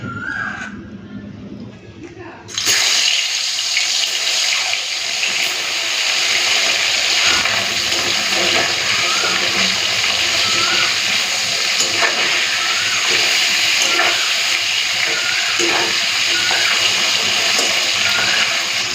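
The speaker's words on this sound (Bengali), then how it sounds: "সরষের তেলটা না ভালো করে গরম করে নিয়েছি চলুন পার্সি মাছগুলো ভেজে নিই" Parshe fish go into hot mustard oil and fry with a sudden loud hiss that settles into a steady, close sizzle with crackling pops for the rest of the clip.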